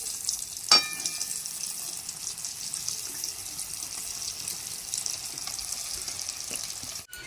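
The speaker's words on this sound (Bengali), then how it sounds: "এবার মিডিয়াম টু লো ফ্লেমে এটাকে ভাজতে দিয়ে দিচ্ছি।" Lote fish chops frying in oil on a medium-low flame, a steady soft sizzle throughout with a brief sharper clatter near the start, no talking.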